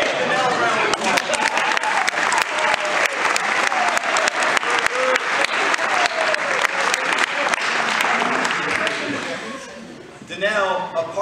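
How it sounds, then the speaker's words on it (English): A crowd breaks into sustained, loud applause with sharp individual claps standing out, while voices talk and cheer through it, and the clapping fades toward the end as speech returns. "Danelle, round of applause."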